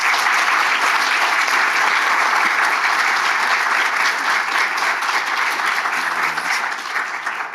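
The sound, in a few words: audience applause for guests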